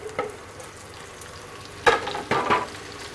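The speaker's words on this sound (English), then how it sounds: "Now we're just going to lightly saute these leeks" Leeks and bacon sautéing in a pan for a leek and bacon soup, a low steady sizzle with a few louder bursts of stirring and clattering near the end.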